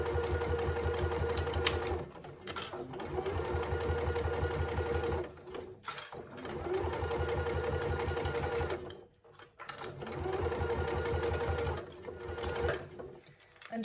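A domestic sewing machine runs steady, lengthened stitches along the strap of a zip pouch, whirring loud and close in long continuous bursts broken by brief pauses.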